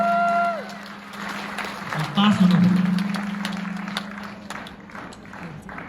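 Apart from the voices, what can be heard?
audience applause at a wedding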